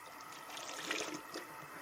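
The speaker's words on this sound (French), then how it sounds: "je vais bien rincer ma face de lavette" A cleaning cloth rinsed under running water during sink descaling, a soft steady trickle and splash, faint and close, with no voices.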